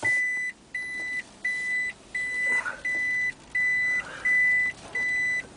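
Toyota Prius reverse-gear warning beeper sounding a steady series of about nine evenly spaced electronic beeps, clear and close inside the cabin with nothing else heard.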